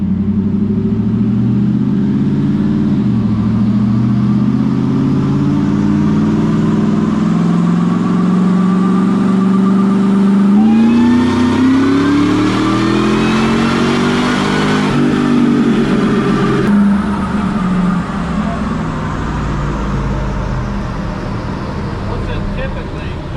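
A car engine with nitrous runs on a dyno, loud and close, its roaring drone climbing steadily in pitch through a long sustained pull before easing off.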